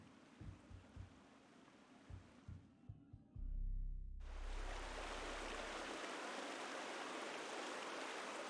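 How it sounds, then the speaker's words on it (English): A waterfall in the adventure game Lost Lands: Mistakes of the Past, heard as a broad, loud rushing roar of falling water that swells in after a brief low rumble and a few splashy thuds. "Waterfall ahead!"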